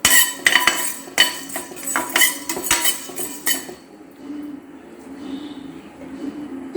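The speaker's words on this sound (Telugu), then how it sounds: "ఇది ఆయిల్ లేకుండా ఫ్రై చేసుకోవాలి" Ingredients dry-fried without oil in a pan for country chicken curry, with a spatula rapidly clinking and scraping against the metal for several seconds before the sound settles into faint, quiet scraping.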